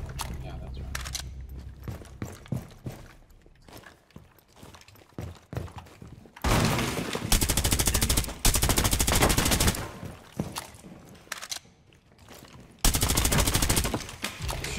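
Bursts of gunfire from a tactical shooter video game, loud repeated volleys separated by quieter gaps, with players talking over the action.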